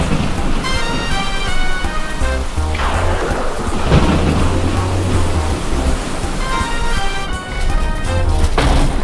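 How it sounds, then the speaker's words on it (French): A steady roar of heavy rain with low rumbling thunder swells during a storm at sea, loud and continuous throughout, with musical tones layered over it. "Oh, génial, c'est une tempête."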